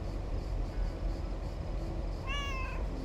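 A cat named Mortimer gives one clear, tonal meow over a constant low background rumble, near and fairly loud.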